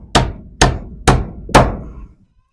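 Four sharp hammer blows drive nails into poplar wood siding on a shop wall, evenly spaced about half a second apart, each a loud close crack with a short ringing decay, with no talk.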